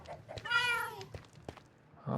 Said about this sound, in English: That's a lot of cats.